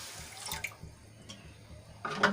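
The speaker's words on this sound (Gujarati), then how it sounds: "તો અહીંયા એક કપ હું પાણી લઉં છું" A cup of water is poured into about 400 grams of sugar for rose sharbat, making a short, quiet splash and trickle with soft bursts at the start and end and no talk.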